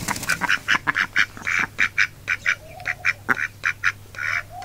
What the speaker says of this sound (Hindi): चकोर का थोड़ा हवाल पूछते हैं।